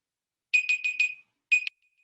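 Alarm beeping in quick bursts, four rapid electronic pips then a pause and two more, bright and clear against silence.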